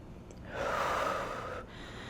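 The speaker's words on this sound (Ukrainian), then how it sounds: "Вдих, видих, вдих, видих." A person draws one long, audible breath through the mouth during a bodyweight workout, a close, airy rush lasting about a second with quiet before and after.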